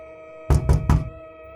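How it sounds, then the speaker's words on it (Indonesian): Three very loud, heavy knocks in quick even succession, sharp and close, standing out from a quiet humming background. "Terdengar ketukan yang sangat keras mengagetkanku."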